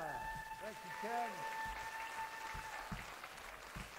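Sustained audience applause in a London concert hall at St John's Smith Square after a New Year's Day parade concert. The clapping runs steadily throughout while someone speaks over it.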